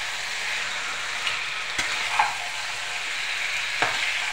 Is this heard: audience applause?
no